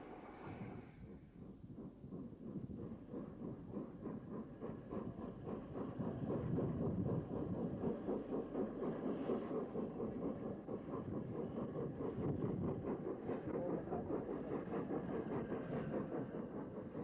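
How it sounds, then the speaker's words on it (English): Gresley A3 steam locomotive 60107 Royal Lancer rolls into Retford with a Leeds to King's Cross train, a low, rumbling mechanical drone that swells after a few seconds and holds steady, heard faintly as if from a distance. "A3 60107 Royal Lancer, one of the original Gresley A1 class locos, arrives from Leeds on a train to King's Cross."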